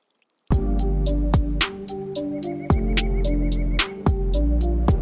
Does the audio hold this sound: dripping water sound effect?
yes